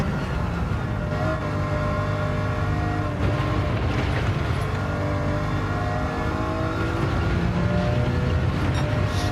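Race car engine on a track in the Gran Turismo video game, a steady loud drone of revving and shifting tones that holds throughout without pause.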